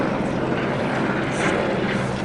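A sheriff's helicopter passes overhead on a steep hiking trail during a search for a missing hiker, its rotor and engine roar a loud, continuous wash of noise with no voices.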